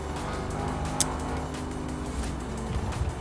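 An Audi RS7 engine hums and revs with a throaty exhaust drone in the video game Forza Horizon 4, steady and moderately loud, with a brief click near the start.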